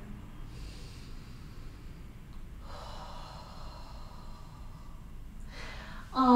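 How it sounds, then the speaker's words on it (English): Slow, deep breaths during a yoga stretch, soft separate inhales and exhales spaced a few seconds apart, quiet and close, with a louder breath at the very end. "Deep breaths here."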